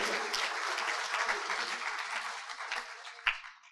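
A crowd at a community swearing-in ceremony applauds, many hands clapping in a dense patter that gradually thins and fades out, ending with a last few scattered claps.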